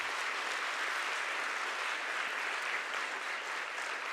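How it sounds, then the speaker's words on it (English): Steady, dense applause from a large audience fills an award ceremony for the 2022 ICPC NWERC programming contest, a continuous wash of many hands clapping without a break. "Let's give a big round of applause to them."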